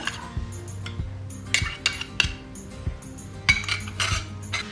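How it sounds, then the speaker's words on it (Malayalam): Chili sauce, soy sauce, salt and egg white marinade being mixed in a bowl, with a utensil clinking and scraping against the bowl in irregular bursts, close and fairly quiet. "ഇതെല്ലാം കൂടെ നന്നായിട്ടൊന്ന് മിക്സ് ചെയ്യണം"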